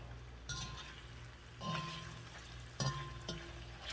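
Beef pieces fry in a hot pan over a high flame for Mongolian beef, giving a faint, steady sizzle with a few soft stirring clinks.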